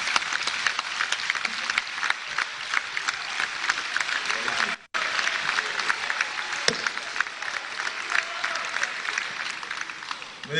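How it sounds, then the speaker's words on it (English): A dense crowd of National Assembly members applauds during a presidential budget presentation in Nigeria; steady, broadband clapping fills the room for about ten seconds, broken only by a momentary dropout near the middle. "let me invite all of us in the National Assembly to applaud the remarks of the Right Honorable Speaker, Tajuddin Abbas."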